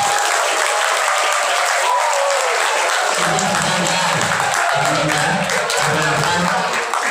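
An audience at a madrasah school's Isra and Mi'raj commemoration at MAN 1 Murung Raya breaks into steady, loud applause that lasts about seven seconds, with voices faintly audible beneath the clapping.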